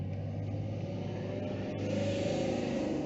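Low, steady engine hum and road rumble from nearby cars idling or creeping in Gold Coast traffic, continuous and moderately quiet.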